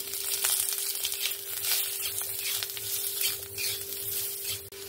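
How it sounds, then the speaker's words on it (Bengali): Potato pieces fry in oil seasoned with a little salt and turmeric, giving a steady, close sizzle with soft stirring scrapes throughout and no talking. "সামান্য লবণ আর সামান্য একটু হলুদ দিয়ে আলুগুলো ভেজে নেব।"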